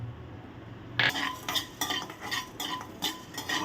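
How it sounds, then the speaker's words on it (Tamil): Ginger-garlic paste and poppy seeds are tempered in a pan for Thanjavur mutton kuzhambu. A utensil stirs and scrapes in repeated close strokes over a faint sizzle, with no speech. "வாங்க இப்போ தாளிச்சிருவோம்"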